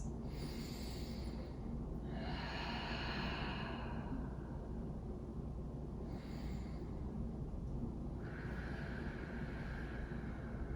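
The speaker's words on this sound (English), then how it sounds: "Couple deep breaths." Deep, slow breaths taken during a seated yoga hip stretch for runners, soft airy inhales and exhales repeating every few seconds, close but quiet over a steady low background rumble.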